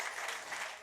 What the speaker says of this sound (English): Mr. Ben Daglish, give him a big applause.